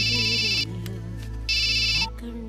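A phone ringtone rings in two bright, steady bursts separated by a short pause, heard over a low background hum during a dramatic scene in a Telugu feature film.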